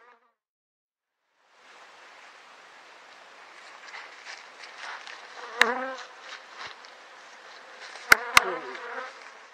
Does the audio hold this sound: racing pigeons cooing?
no